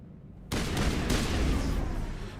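Gunfire erupts suddenly in Mass Effect Legendary Edition after a quiet half second, becoming a loud, sustained rumble of shots and blasts that carries to the end.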